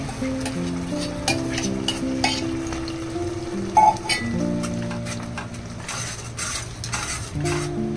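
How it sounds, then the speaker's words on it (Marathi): Tomato gravy sizzles in a pan for a Marathi festive thali while a utensil stirs and clinks against the metal in irregular bursts, close up, with a tonal hum running underneath and no talking. "टमाट्याची ग्रेव्ही पण टाकणार आहे याच्यात आता, म्हणजे दोन्ही संगत भाजून घ्या."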